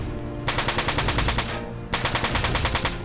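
Gunfire from the video game Front Mission 4: two loud bursts of rapid automatic fire, each about a second long with a short gap between, over a steady low game hum.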